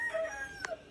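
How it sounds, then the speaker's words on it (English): Lavender Ameraucana rooster crowing in a coop pen alongside hens, a short harmonic call with a brief sharper burst near the end, moderately close over a steady low background. "So we've got a new lavender Americana boy in there, and I believe 4 hens."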